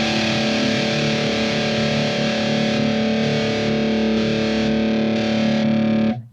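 A distorted electric guitar chord rings and sustains loudly while a drive effect is switched on and off, the tone shifting slightly in stepped sections before the chord is cut off at the end.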